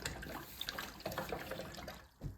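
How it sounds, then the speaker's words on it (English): A paint brush is rinsed in water, giving faint, close splashing and swishing with a few small drips, uneven and brief. "I'm going to rinse out my brush."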